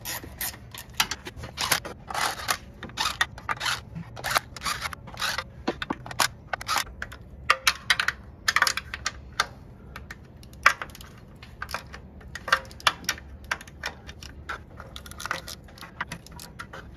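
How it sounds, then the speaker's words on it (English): An air tool runs down the bolts on a transmission valve body in a long series of short, sharp rattling bursts and clicks, close by and fairly even in loudness. "Then we'll use the air tool."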